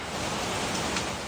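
Steady broadband rain from a thunderstorm over Metro Manila, a dense continuous hiss of downpour with no distinct thunderclaps, even and fairly loud throughout with no voices.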